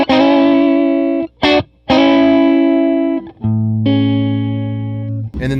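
A Stratocaster on its neck-and-middle pickup setting plays through a Tweed Deluxe 5e3 clone amp with Dumble-style mods, sustained harmonically rich chords ringing out loud and alone with a couple of brief gaps between strums.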